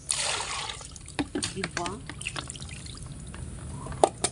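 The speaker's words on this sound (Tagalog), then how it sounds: "Siyempre, hindi pwedeng hindi natin lagyan ng tubig to." Water pours and trickles into a pot of sweet potatoes, close by, while a person talks over part of it, with a sharper splash near the end.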